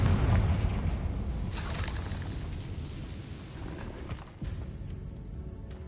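A Confringo spell explodes in the Hogwarts Legacy video game as a loud, close boom with a heavy low rumble that slowly fades, followed near the end by a second sharp burst. No one speaks.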